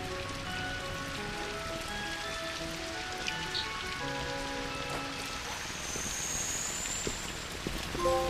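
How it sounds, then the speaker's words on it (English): Video game rain inside a tram car patters and hisses continuously, a dense, even wash of drops with occasional faint clinks and tones mixed in. "we're still raining inside the tram car here."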